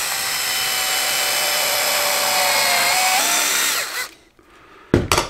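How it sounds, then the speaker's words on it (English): A power drill whirs steadily for about four seconds, then winds down and stops, followed by a couple of brief clattering knocks. "we'll drill the second hole about 3/4 of an inch in the center."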